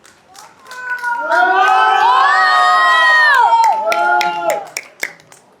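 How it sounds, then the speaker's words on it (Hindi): A sangeet crowd in Kolkata cheers and shouts loudly in a sustained swell, with hand clapping throughout, the voices rising and then fading after about four seconds. "तालियों की आवाज जोरदार हो जाए"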